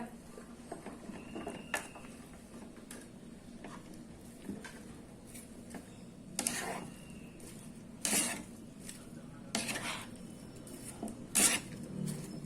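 Pineapple, banana, apple and grapes being stirred together in a pan over low flame for a South Indian mixed fruit pachadi, with scattered clinks and scrapes of a utensil against the pan in a quiet kitchen.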